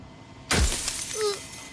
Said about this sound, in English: loud glass shatters